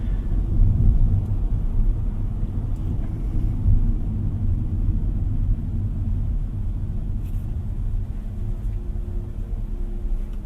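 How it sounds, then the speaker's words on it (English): Steady low road rumble inside a Hyundai Stargazer X cabin while driving, a continuous near drone with no talk. "You can hear some of the road noise here inside."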